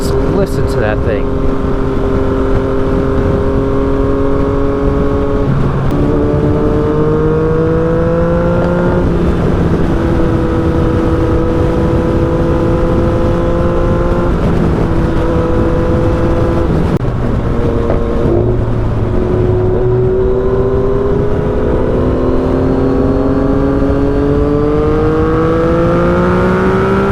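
A Lamborghini's engine roars and accelerates close by, its pitch climbing in repeated rising sweeps as it takes off, heard over the steady drone of a motorcycle with someone talking excitedly.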